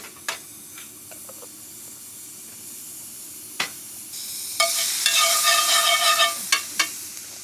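A knob of butter and garlic fry in a pan at an outdoor campsite. A quiet background hiss swells into a bright, loud sizzle in the second half, broken by a few sharp clicks and taps.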